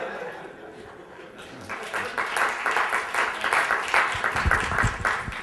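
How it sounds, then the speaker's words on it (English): An audience at the Fusion '09 conference breaks into applause after a video clip is shown, a broad wash of clapping that swells and holds, with some laughter and voices mixed in. "I like showing that clip because I get a lot of applause."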